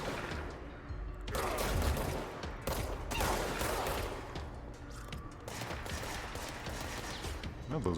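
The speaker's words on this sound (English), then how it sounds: "No, those are pistols." Dense bursts of gunfire in the video game Control, loud and continuous for several seconds, with overlapping shots and booms and short breaks between volleys.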